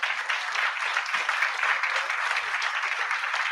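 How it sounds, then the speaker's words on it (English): A room of audience members applauds panelists at the close of a symposium on root causes of youth crime, steady dense clapping held throughout with no voices over it. "Can we have a round of applause for our panelists?"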